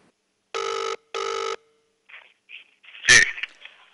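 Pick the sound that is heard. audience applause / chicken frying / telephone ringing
telephone ringing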